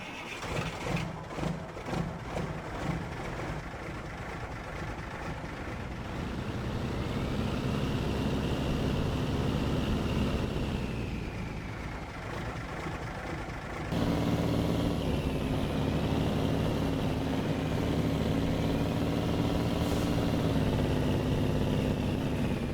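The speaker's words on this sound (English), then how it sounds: "this is the sound of modded Pacific P512" A modded Pacific P512 heavy truck engine in SnowRunner cranks with a rapid ticking start, then settles into a deep, loud, steady idle and revs up, running alone without talk.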